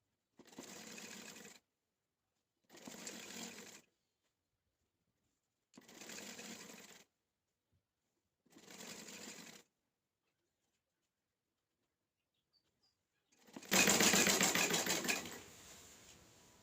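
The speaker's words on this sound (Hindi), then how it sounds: "मुकम्मल सिलाई हमने कर लिया है।" A sewing machine stitching a buckram collar piece, four short even bursts of rapid whirring needle chatter separated by pauses, then one louder, longer run near the end, close and without speech.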